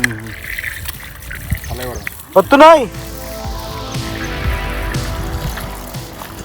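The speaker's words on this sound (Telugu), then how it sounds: "ఇప్పుడు ఏం చెప్తున్నాం అంటే నీళ్ళు పడుతున్నాం" Water splashes and trickles as it is poured onto a few newly planted trees, a soft, continuous dribble running beneath nearby talk, with a short louder burst partway through.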